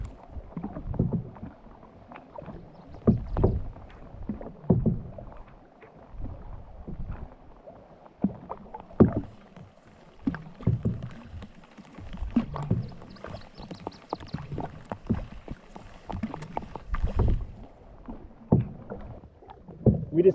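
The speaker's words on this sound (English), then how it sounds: "So we're paddling across the lake to a different one." Canoe paddles dipping and pulling through lake water on a Wabakimi and Kopka River wilderness trip, steady rhythmic strokes with splashes and knocks against the hull, close and fairly loud throughout.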